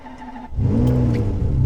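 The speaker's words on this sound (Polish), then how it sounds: "tylko odpalamy od razu samochód i pojeździmy nim chwilę" A Ferrari imported from Dubai starts up: a quiet electrical hum gives way to the engine catching and settling into a loud, steady, rumbling idle, close by with no talking.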